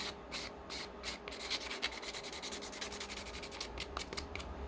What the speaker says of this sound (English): just give them a quick sand